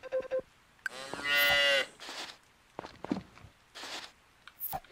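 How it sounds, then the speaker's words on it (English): Cow mooing in the Story of Seasons farming video game: a single loud, drawn-out moo near the start, followed by short scattered rustles and soft crunchy clicks of farm activity. "let's actually go make sure we feed our new cow"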